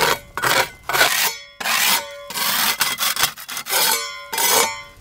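Stiffened facade plaster being knocked off at the edges during a facade repair, heard as a series of close, dry scraping and rasping strokes in short repeated bursts with brief pauses, alone without talk.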